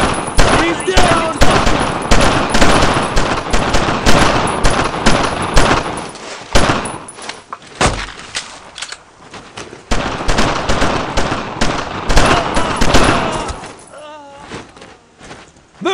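Sustained machine gun fire in the World War II squad shooter game Brothers In Arms: Road To Hill 30, dense loud bursts for most of the span with a brief lull, and shouted voices over the shooting.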